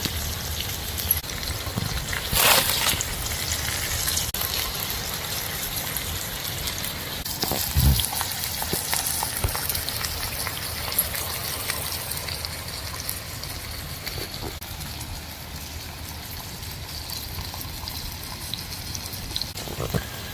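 Pomfret fish frying slowly on a hot tawa makes a faint, steady crackling sizzle with scattered pops and occasional louder spatters, quiet and continuous throughout.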